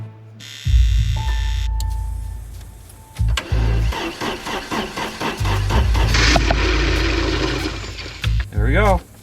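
A 1982 Porsche 924 Turbo engine being started, with repeated rhythmic starter cranking close up before the engine catches, while people talk over it.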